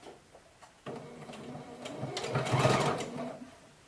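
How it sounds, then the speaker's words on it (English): A sewing machine runs in a steady burst of rapid stitching that swells louder midway and then eases off, with no talking. "I like to do this part on my sewing machine"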